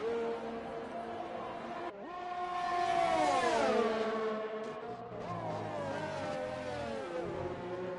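A Formula 1 car in a racing video game brakes hard into a corner at the Russian circuit, its engine tone sweeping down through gears over several seconds, with a commentator talking over it.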